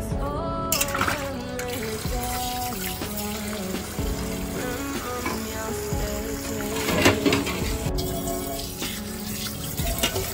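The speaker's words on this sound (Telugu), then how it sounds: "నీళ్ళు పోసి గిన్నెలు అన్ని తోమేసినాను." Water runs continuously from a tap while kitchen dishes are scrubbed and rinsed, with clinks of utensils throughout and a tonal hum underneath.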